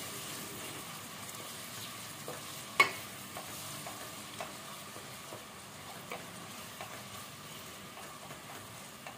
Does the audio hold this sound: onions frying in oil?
yes